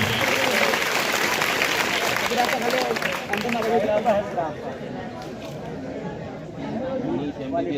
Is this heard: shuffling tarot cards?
no